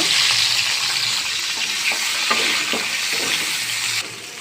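Steady, crackling sizzle of potatoes frying in oil for a rohu fish curry with cauliflower, with occasional stirring scrapes; the sizzle drops slightly in level near the end.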